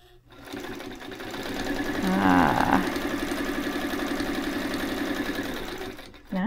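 A White 173 sewing machine runs steadily through scraps of test fabric in one continuous, fairly loud stitching burst of about six seconds, starting and stopping cleanly, with no talking.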